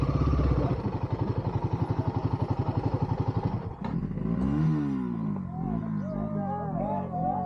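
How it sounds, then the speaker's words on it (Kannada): A motorcycle engine on an off-road trail near Pondi Lake, Kodaikanal, runs with a fast, even chugging pulse, then the throttle drops off and the bike settles into a rougher, quieter idle while voices talk over it. "ಫೈನಲಿ ಗಾಡಿ ಸ್ಟಾರ್ಟ್ ಆಯಿತು"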